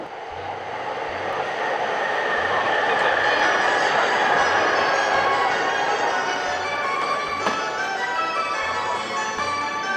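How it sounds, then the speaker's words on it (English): A high-tech commuter train in Tokyo rolling along with a steady loud rumble and rail noise, regular low clacks of wheels over track joints recurring every second or so, and a brief sharp rattle near the end. "So this is the high-tech train."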